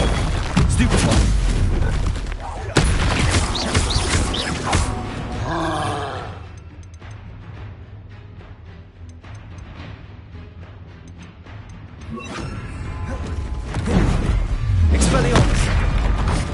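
Spell-casting blasts from Incendio and Stupefy in Hogwarts Legacy, loud booming impacts clustered at the start and again near the end, separated by a quieter stretch, with a player's voice and grunts mixed in.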